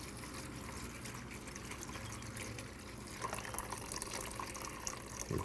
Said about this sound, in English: Watering from the bottom, because you know I don't like watering from the top.